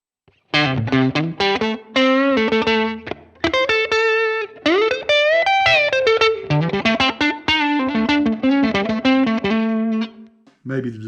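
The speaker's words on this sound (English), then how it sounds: "Now let's hear it with a little bit of tube screamer." A Stratocaster plays through a Fender Mustang LT25 amp with a tube screamer overdrive, giving a lightly driven lead line of sustained, bending notes and quick phrases. It is loud and close and stands alone after a brief silent start.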